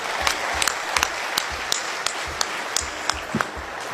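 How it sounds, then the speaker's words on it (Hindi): Audience applause at a Haryanvi comedy and poetry show, a steady patter of many hands with distinct sharp claps punctuating it at close range, sustained evenly throughout. "एक बार तालियां और विष्णु जी के लिए बजा दे"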